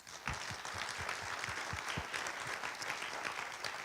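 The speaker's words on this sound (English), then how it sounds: "Why don't we give them a round of applause?" A crowd claps steadily and densely, applause filling the room with continuous rapid hand claps at moderate volume, no voices standing out.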